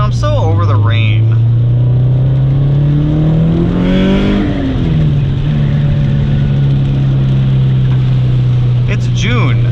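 A 2005 Subaru STI drives close up with a loud, steady engine drone that rises as it revs and accelerates, then settles back into cruising, with a voice speaking briefly over it.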